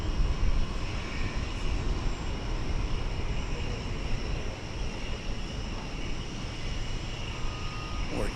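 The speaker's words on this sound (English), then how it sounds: "There's a 737 MAX 9. It's off to Seattle, flight 365." An Alaska Airlines Boeing 737 MAX 9 departing for Seattle from DFW sends a continuous, moderately loud jet roar, a dense low rumble that holds steady across the whole stretch.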